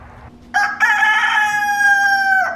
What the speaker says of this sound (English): Mister, if you're gonna crow that loud, go somewhere else.